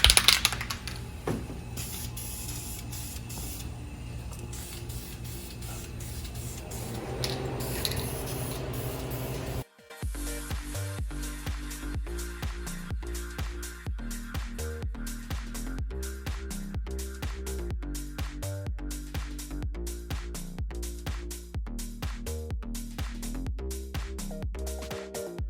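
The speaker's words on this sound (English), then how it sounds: "We're going to coat the headers in a VHT flame-proof coating." A steady, close hiss of VHT flame-proof ceramic coating paint with a cast finish being sprayed onto drag car headers runs for about ten seconds, then gives way to rhythmic music.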